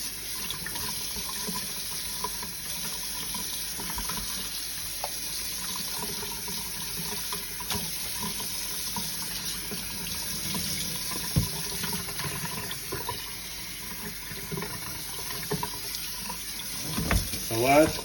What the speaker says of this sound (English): And start running the water on it again while you're removing it.